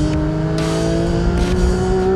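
A Porsche 911 GT3 engine screams at around 9000 rpm, a loud sustained whine holding nearly steady with slight rises in pitch, close and alone.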